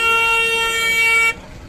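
A loud, steady car horn blares continuously for over a second, then cuts off abruptly, leaving faint road background.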